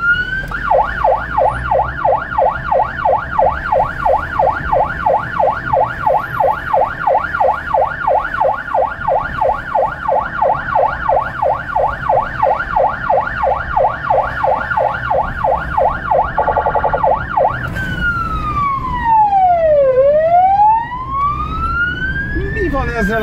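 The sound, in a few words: ambulance siren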